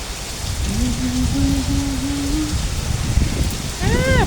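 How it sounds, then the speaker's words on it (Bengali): Steady rainfall patters close by as a constant wash of sound, with faint tonal cries briefly rising above it. "আমি এখন বৃষ্টি ধরবো।"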